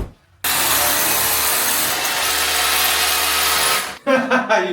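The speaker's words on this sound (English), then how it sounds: "I think I'm going to drill a hole through." A loud power drill whines steadily for several seconds close by, drilling through a concrete sill, then cuts out, followed by a short clatter.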